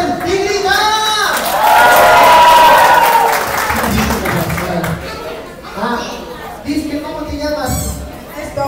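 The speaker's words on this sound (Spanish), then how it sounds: "Quiero escuchar a la gente como aplaude." Audience at a clown show applauding and cheering, a broad swell of clapping and crowd noise with children's shouts, mixed with loud chatter and voices talking throughout.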